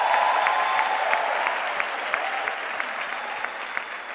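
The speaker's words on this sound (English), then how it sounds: "Can we give our choir another round of applause," Sustained applause fills a graduation ceremony hall on a university campus as the audience claps for the choir, a dense even wash of many hands with occasional sharper individual claps, fairly loud and without talk.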